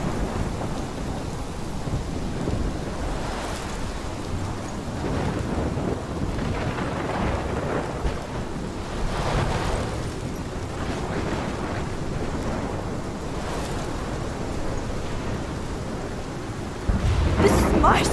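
Heavy rain pours continuously with rolling rumbles of thunder in the Life is Strange video game, a dense, loud storm roar throughout, swelling near the end.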